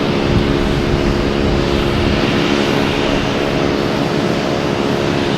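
A Boutique Air propeller plane lands at Boston Logan Airport, its engines a loud, close, unbroken drone with a steady tonal hum running under the broadband roar throughout.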